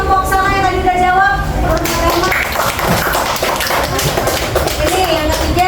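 A primary school class claps together for a group that answered a question, a dense burst of hand claps following a brief moment of talk at the start.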